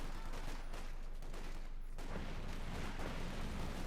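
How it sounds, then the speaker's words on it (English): Company of Heroes 2 World War II battle, with Osttruppen infantry caught under mortar and rifle fire: a dense, continuous roar of overlapping gunfire and blasts that stays loud throughout. "Osttruppen there taking heavy casualties from the mortar and sapper fire there"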